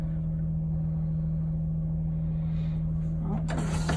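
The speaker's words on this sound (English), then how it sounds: "So I'm gonna do one full application here." Thomas school bus idling with a steady low engine drone, then a sharp loud hiss of compressed air near the end as the air brakes are fully applied once.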